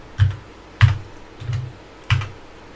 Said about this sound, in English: or again, I can start typing.